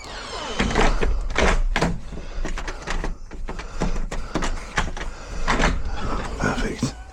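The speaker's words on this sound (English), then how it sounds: "Just check how easy it is for the door shut." A door is shut after a lock repair, giving several clunks and latch knocks over a few seconds while people talk.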